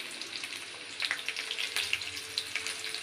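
Onions fry in oil in a kadhai, a soft, fairly faint sizzle with small crackles and a few sharper spits growing busier midway, no speech.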